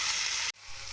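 Spice tempering (phodni) sizzles in hot oil with a loud, bright hiss that briefly cuts out, then returns a little softer.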